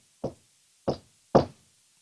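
Three sharp knocks on a wooden surface, evenly spaced and close, standing alone with silence between them.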